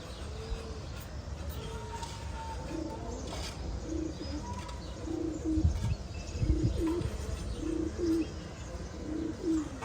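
Pigeons coo in low, repeated bursts outdoors, the calls growing more frequent and louder toward the end over a steady background of ambient noise and faint chirps.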